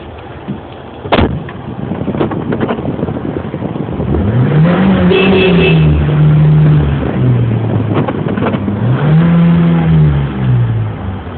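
A car engine idles nearby, then revs in rising and falling swells, with a clunk near the start and a second long rev toward the end.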